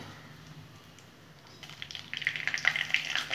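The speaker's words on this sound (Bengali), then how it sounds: "শুকনো লঙ্কা ফোড়নে দিয়ে দিলাম।" Dried red chilies and cumin sizzling in hot tempering oil for dalia khichuri. A quiet start gives way to crackling and spattering that builds louder toward the end.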